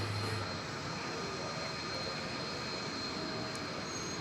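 A Boeing 737-800 airliner arriving at DFW Airport gives off a steady, broad jet roar that holds even throughout, heard from a distance with no voices.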